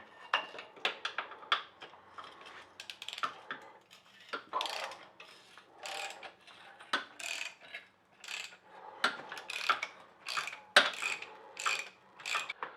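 Rusty bolts being worked loose from a classic motorbike, heard as close, uneven bursts of metallic ratcheting clicks from a hand tool, coming in short runs with brief pauses and no voices.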